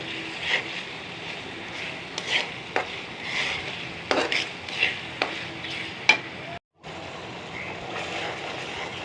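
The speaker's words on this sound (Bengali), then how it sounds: "এখানে একটু একটু পানি দিয়ে কষিয়ে নেবেন" Crab masala being stir-fried with a little water, a soft sizzle under repeated scraping strokes of a spatula, with a brief dropout partway through.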